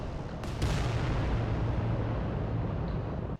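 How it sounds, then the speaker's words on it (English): Volcano cannon and plasma gun blasts from a giant war machine in the Adeptus Titanicus: Dominus video game, a sudden crack followed by a loud, sustained, rumbling roar that cuts off abruptly. "Got the Volcano Cannon coming in. Plasma gun blasts."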